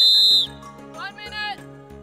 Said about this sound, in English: timekeepers should blow the whistle and tell the teams that there is 1 minute to go.